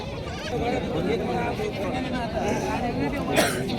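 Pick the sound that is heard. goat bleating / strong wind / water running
goat bleating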